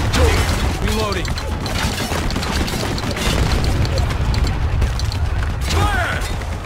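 Mortar fire and explosions in the war game Spec Ops: The Line, a steady roar of booming blasts and rumbling battle noise, with voices shouting briefly over the din.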